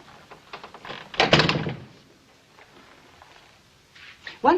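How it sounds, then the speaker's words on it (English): A wooden door being pushed shut in an interior scene from the western Bonanza, one solid thunk near the middle, with quieter rustles and faint movement before and after. "Close the door."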